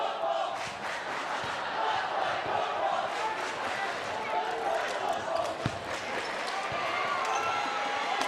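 A student cheer block roars steadily through a girls varsity basketball game between LaVille and John Glenn in a tournament gym, dense crowd noise and chanting filling the space with occasional sharp court thuds.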